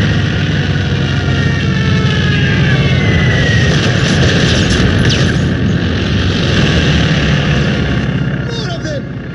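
Stuka dive bombers attacking in Company of Heroes 2, a loud continuous roar of aircraft engines and booming battle noise under shouted voices of soldiers.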